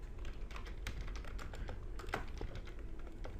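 Rapid, steady clicking of keys on a computer keyboard, close and fairly quiet, continuing without pause and with no talking.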